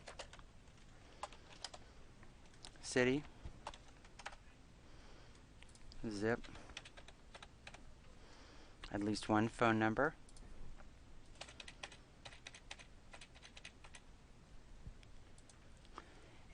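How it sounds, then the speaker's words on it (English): Keys clack steadily on a computer keyboard while a parent's name, relationship and address are entered into a youth soccer registration form, light rapid taps running throughout beneath occasional short bursts of talk. "I type in the parent's first name, parent's last name, their relationship to the player"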